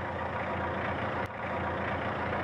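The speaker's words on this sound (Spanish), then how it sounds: "vamos a aprovechar el paso de esos tractores recién terminados para conocer la división donde los crean" Newly finished tractors rolling past inside a 1960s Barreiros factory, a steady, loud engine drone with heavy low rumble that holds evenly throughout, briefly dipping in the middle, with no talk.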